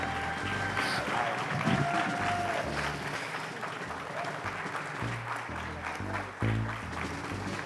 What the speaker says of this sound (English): let's give a big round of applause for this man right here